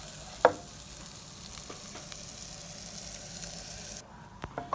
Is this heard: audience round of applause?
no